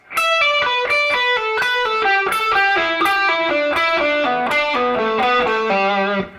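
A distorted electric guitar plays a slow descending pull-off triplet run of quick, evenly spaced notes, bright and sustained, with no voices.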